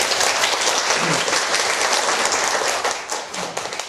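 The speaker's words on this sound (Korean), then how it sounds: "우리 큰 박수 한번 보내드립니다." Warm applause from the audience at a counseling psychology special lecture, many hands clapping in a full, even wash that tapers slightly toward the end.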